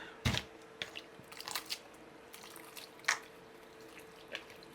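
Wet sphagnum moss wrung out by hand over a houseplant moss pole, sending a few quiet, scattered drips and soft trickles that fall alone at irregular intervals, with faint squishing between them.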